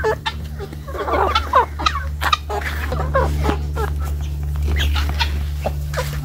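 Broody backyard hens cluck in short, irregular bursts over a steady low hum, with a few sharper calls standing out nearby.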